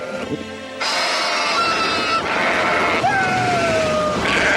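Sheep bleat loudly and repeatedly, wavering cries overlapping one another against a noisy outdoor background.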